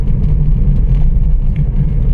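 Steady low rumble of vehicles driving along a road at night through Jim Corbett National Park, a continuous close engine and tyre drone with no clear gaps, heard alone without talk.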